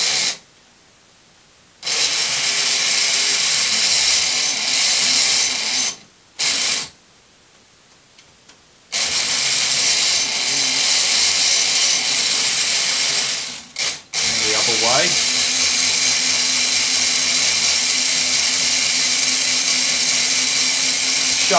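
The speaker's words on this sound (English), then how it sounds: "So start the motor." A small electric motor drives a Meccano lifting shovel model, whirring and ratcheting loudly up close, cutting out twice for a few seconds and then starting again, with a brief rising whine partway through.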